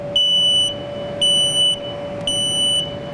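Indoors, a room smoke alarm sounds three piercing beeps in an even rhythm, each about half a second long, loud and close over a low background hum.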